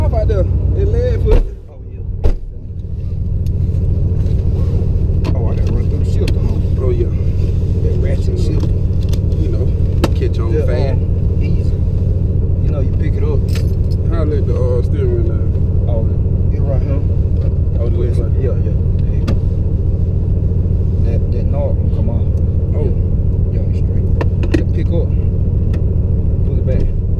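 Turbocharged Chevrolet Camaro engine droning steadily from inside the car as it is driven and shifted through the gears, a constant low rumble with a brief dip near the start, with people talking over it.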